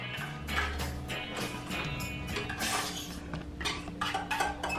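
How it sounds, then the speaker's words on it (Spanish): Tuna is emptied into a blender for an oat and tuna shake, giving a busy run of clinking and scraping of can, utensil and blender jar, close and fairly steady throughout. "vaciamos el atún a la licuadora"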